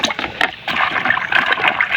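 Potatoes and vegetables are washed by hand in water in a kitchen, close splashing and sloshing in short irregular bursts with brief pauses, no talk over it.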